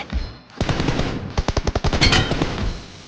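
Rapid hipfire gunfire from a close-range shooter video game, loud bursts of evenly spaced shots in quick rhythm, alone without voices.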